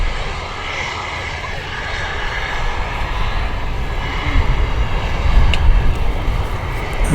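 A small jet rolls along a runway with a steady, fairly loud engine roar that builds slightly toward the end, heard from a park with wind buffeting in the background.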